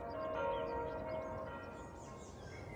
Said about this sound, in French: Ah, les cloches de Pâques